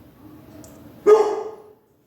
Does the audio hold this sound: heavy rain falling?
no